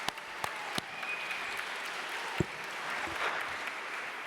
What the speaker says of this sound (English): A big applause for our International Cooperatives Day